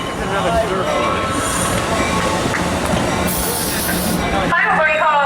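Amtrak Pacific Surfliner northbound train pulling into Fullerton station, a loud continuous rumble of rolling wheels and rail noise with brief hissing and squealing, heard close from the platform.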